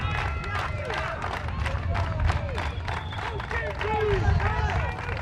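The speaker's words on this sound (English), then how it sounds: "The men's team looks like cheering on the women." A crowd cheering at a women's ultimate frisbee match between Germany and New Zealand at the 2012 World Championships in Sakai, Japan, with a men's team among the supporters. Shouts and whistling-like calls rise over a busy outdoor babble, fairly close and continuous.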